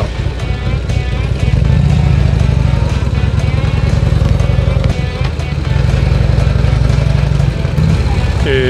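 A motorcycle engine drones loudly and continuously while riding on a touring trip to a temple garden in Ome, Tokyo, with wind noise and a slight rise and fall in engine pitch.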